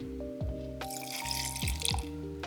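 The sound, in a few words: pouring milk into a blender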